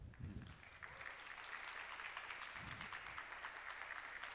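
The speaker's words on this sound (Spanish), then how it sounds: "pido un fuerte aplauso" An audience at an academic lecture gives a strong round of applause for a guest speaker, a sustained even clatter of many hands with a few low thumps, faint overall.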